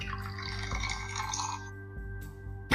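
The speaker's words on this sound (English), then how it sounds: "I didn't finish pouring that brew yet" Beer splashes and trickles as it is poured into a glass, a steady liquid stream with small drips, close by over a constant background hum. A sharp knock sounds at the end.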